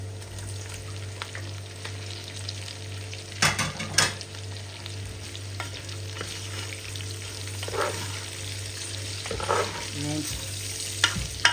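Meat frying in a pan for adobo gives a steady close sizzle, with occasional scrapes and clatters from stirring; a voice speaks briefly.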